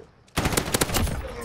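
Rapid gunfire in a first-person shooter video game, a loud burst of several quick shots starting abruptly after a quiet moment.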